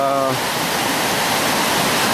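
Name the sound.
rushing water of the River Turret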